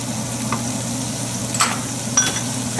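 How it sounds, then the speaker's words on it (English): Chilies sizzle in a pan of Indian chicken curry, a steady close frying hiss with a few soft stirring scrapes and clinks. "We also want to add the chilies."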